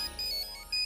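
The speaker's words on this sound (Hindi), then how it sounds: "हेलो, फोन आ गई।" A phone ringtone in a Hindi TV drama scene, a short, faint electronic melody of a few tonal notes lasting under a second.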